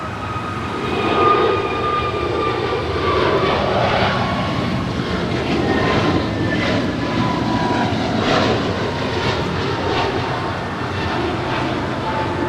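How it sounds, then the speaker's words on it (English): An American Airlines A321neo jet departs Los Angeles International Airport for Dallas Fort Worth, heard as a sustained, fairly loud engine roar that swells and eases slightly over several seconds, alone without voices. "This departure is American 2853 departing to Dallas Fort Worth on an A321neo"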